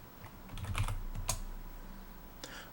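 Keystrokes on a computer keyboard, a short run of light, irregular clicks at close range with a sharper tap near the middle, in a quiet room with no talking.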